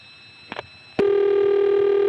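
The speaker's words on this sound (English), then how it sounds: "you don't hear multi-frequency tones, just more pulsing noises than in the last example." Old analog telephone line in Hague, Virginia: two faint clicks, then a sharp switch and a loud, steady pulsing tone that holds to the end, alone with no voices.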